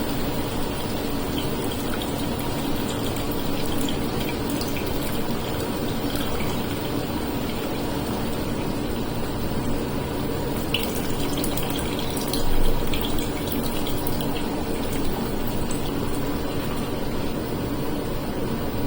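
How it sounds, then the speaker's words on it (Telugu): Water pours steadily into a cooking pot of okra pulusu with tamarind juice, a continuous close rushing stream that holds at an even level for the whole stretch. "దీంట్లో ఇప్పుడు కొంచెం నీళ్లు పోసుకుందామండి, మనకు అవసరమైనంత వరకు."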